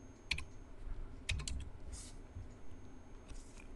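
A few sharp computer-keyboard keystrokes, two distinct taps and then some softer ones, sound close and fairly quiet over a low background hum with no voice.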